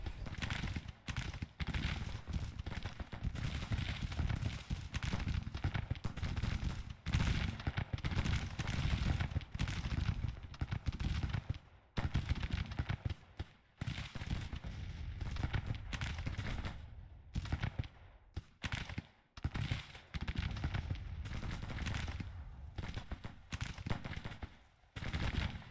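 Musket and rifle volleys in the Civil War strategy game Grand Tactician: a dense, rattling crackle of many shots from a Confederate counterattack, firing in sustained waves with brief lulls, loud and continuous.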